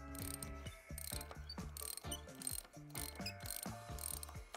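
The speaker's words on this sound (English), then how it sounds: "9/16 wrench, you're going to loosen this pinch bolt" A 9/16 wrench loosens a very tight pinch bolt on the front end of a Harley-Davidson Sportster motorcycle. It makes steady, rapid ratcheting clicks and metallic turning noises, close and fairly loud, with no talking.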